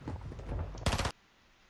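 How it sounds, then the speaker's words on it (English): In a first-person shooter, a player's footsteps climb stairs in a quick run of low, muffled thumps. A short, louder broadband burst follows, then the sound cuts to near silence. "You can hear him going up on the stairs."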